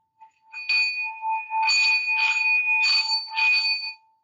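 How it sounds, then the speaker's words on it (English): A singing bowl is struck and kept ringing: a clear, steady bright tone that swells in several repeated rhythmic pulses over about four seconds, close and fairly loud with no talking. "You're going to chime it, and you're just going to, keep ringing it, keep going."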